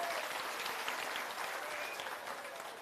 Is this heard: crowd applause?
yes